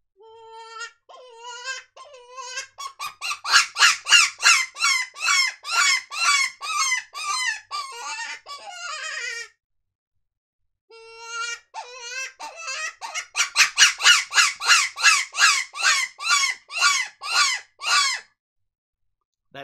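A Dog Soldier Legend 1C coyote hand call is blown in two long runs of raspy, squealing howl-like notes. The calls rise from short yelps into rapid, loud, pulsing cries and sound close, with no other sound around them.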